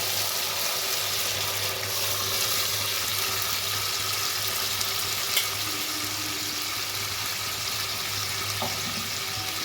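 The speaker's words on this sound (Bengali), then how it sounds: "এবার দেবো সেদ্ধ করে চটকে নেওয়া মোচা" Boiled, mashed banana flower goes into a spice paste frying in a pan, giving a steady, close sizzle and hiss with faint stirring, no voices.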